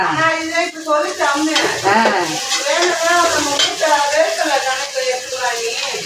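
Spices tempering in sesame oil for a fish curry: a steady close sizzle with spoon stirring, mostly covered by continuous conversation between people.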